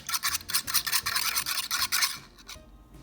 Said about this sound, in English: You kind of pierce the egg yolk and then stir.